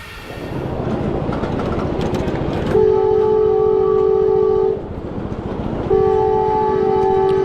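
A diesel miniature ride-on train runs steadily along an outdoor track at a small-trains meet. Its horn blasts twice in long, loud tones over the continuous rumble and clatter.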